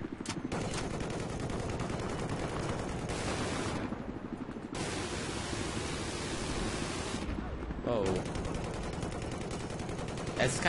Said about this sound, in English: We got a minigun.